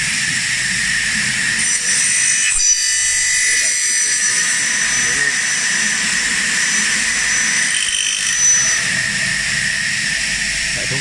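A Factor 450 double-head aluminum cutting saw slices through aluminum stock with a steady, loud, high-pitched whine and hiss that runs unbroken, while someone talks over it.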